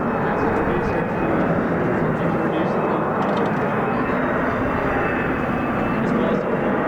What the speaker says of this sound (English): They're rolling vertical landing here.